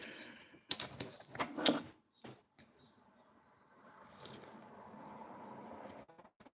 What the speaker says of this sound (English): I don't know why I'm shuffling this first.